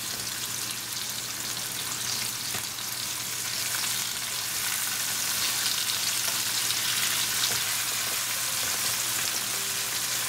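Onion sautés in a pan for vegan rice pilaf, a dense, even frying hiss that runs close and continuous throughout with no talking.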